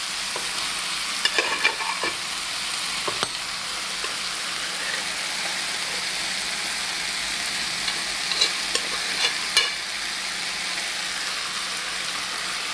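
Chicken and cowpeas are added to a pan of curry and stirred, giving a steady sizzle with scraping stir strokes and a few louder clatters, with no talking.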